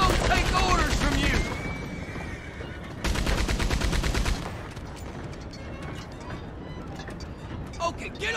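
Rapid gunfire in the Red Dead Redemption 2 video game, from a robbery mission on a moving train: dense bursts of repeated shots, loud and close, in two main volleys with scattered shots and shouted voices between.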